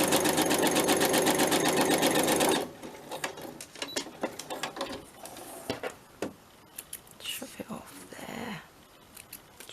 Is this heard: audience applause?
no